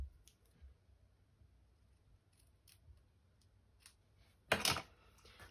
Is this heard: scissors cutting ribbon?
yes